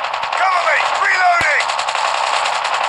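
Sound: gunfire in the video game Call of Duty Mobile

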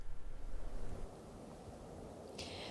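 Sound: strong wind outdoors at a state park

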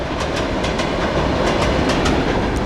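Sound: local electric train passing in Kyiv

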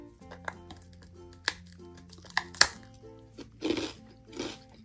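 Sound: crunching a rice cracker

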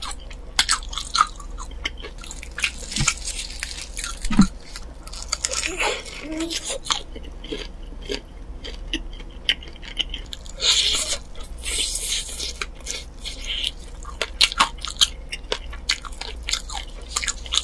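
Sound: eating Nene Cheongyang Mayo fried chicken wing

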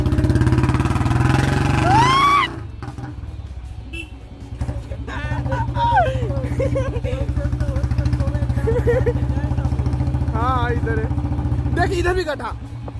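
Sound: Bullet motorcycle engine while riding on a bumpy road

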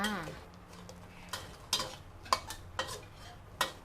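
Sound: stir-frying red curry paste with water

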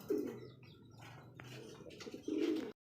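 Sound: pigeon cooing

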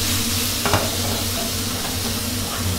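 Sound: stir-frying blanched squid with chili and garlic in a hot pan

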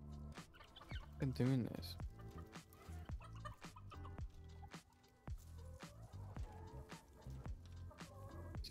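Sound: chickens clucking in the video game Dungeons 4

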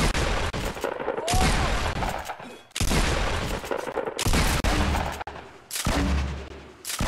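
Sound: gunfire in the Fortnite video game

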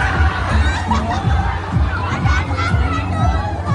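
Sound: people screaming on a fast-spinning fairground ride at a corn festival

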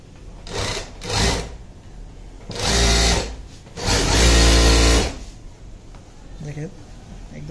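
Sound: MH-380 chain stitch sewing machine sewing

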